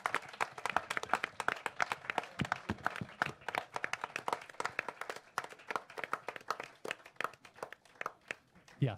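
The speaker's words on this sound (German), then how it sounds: "Ich denke, das ist einen fetten Applaus wert und den geben wir denen jetzt noch." Live audience in a public library applauding the event crew, dense sustained clapping from many hands, close and lively, with a few scattered louder claps throughout.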